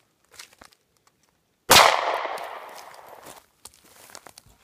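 A single sharp .380 ACP pistol shot into a Lexan polycarbonate pane, fired outdoors, rings out loud and close, then decays over about two seconds, with faint shuffling and small knocks before and after.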